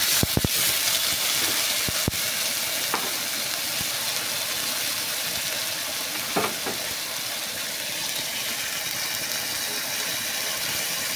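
Onions frying in very hot oil in a pan: a steady, loud, close sizzle hisses throughout, with a few sharp crackles and pops near the start and no talk.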